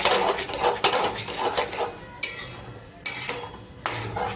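Semolina sheera stirred in a pan, a spoon scraping and clinking against the metal in steady strokes, with a few sharper scrapes after short pauses near the end; no talking.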